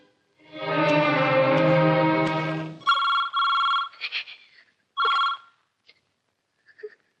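An old-fashioned telephone bell rings in a film scene, with one long continuous ring followed by several shorter bursts and then a few faint, clipped rings as the sound dies away.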